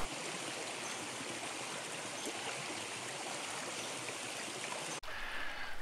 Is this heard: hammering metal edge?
no